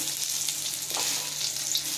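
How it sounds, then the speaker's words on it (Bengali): Eggplant slices and green chillies frying in hot oil, a steady bright sizzle running throughout with a brief soft stir near the middle, close and even in level. "দেখছো, বেগুন ভাজার সঙ্গে লঙ্কাও দিয়েছি, লঙ্কাটাও সুন্দর ভেজে গেছে।"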